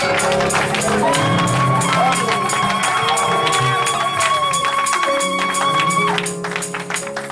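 A church congregation cheers and acclaims God in a loud, continuous wash of voices and clapping, while sustained instrumental tones ring above the crowd before fading slightly at the end.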